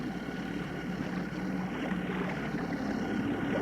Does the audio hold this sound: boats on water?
yes